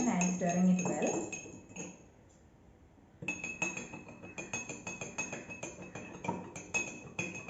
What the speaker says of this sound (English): Making it a solution, I am stirring it well.